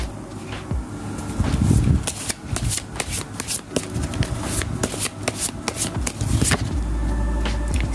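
Tarot cards are shuffled by hand for a reading. Rapid, crisp riffling and slapping come in quick repeated bursts, close and fairly loud, with a faint steady fan hum behind them.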